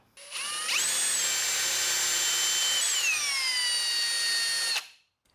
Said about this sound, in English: So what I'll do is I'll drill this out with an 11mm.